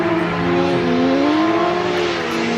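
Formula Drift cars at Fuji Speedway in a tandem battle, loud high-revving engines with wavering, rising and falling pitch and a continuous roar throughout.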